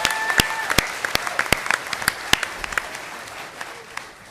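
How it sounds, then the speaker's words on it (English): An audience claps for a table-read winner, with a spread of sharp individual claps across a few seconds that thin out toward the end. "how about a round of applause for Dan?"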